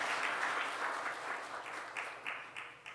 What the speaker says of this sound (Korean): 현욱이 우리 군대 가니까 잘 갔다 오라고 박수 보내겠습니다.